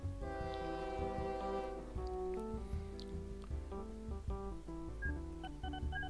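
Train sounds from the OpenTTD transport simulation game, with a steady horn-like harmonic tone and rail noise running throughout, overlaid by game music and clicks; no speech.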